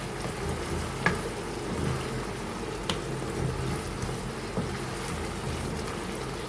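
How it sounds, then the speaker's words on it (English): Masala with garam masala is mixed in a pan for prawn vegetable pulao, a low steady sizzle with a few soft scrapes and knocks of the spoon spaced out across the stretch. "I am going to close my masala box and going to mix it properly"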